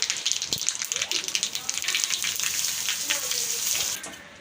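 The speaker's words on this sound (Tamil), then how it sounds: "நெய் வந்து நல்லா உருகட்டும் கடுகு சேர்த்துக்கலாம் பெருங்காயம் கருவேப்பிலை ஆட் பண்ணிடலாம்" Mustard seeds, asafoetida and curry leaves sizzle and crackle in hot ghee, a dense close frying hiss with rapid popping spatters that eases off at the very end.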